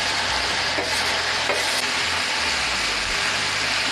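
Onion and minced meat frying in a pan for Aleppo-style sumac kibbeh, a steady close sizzle and crackle with occasional stirring scrapes, continuous with no talking.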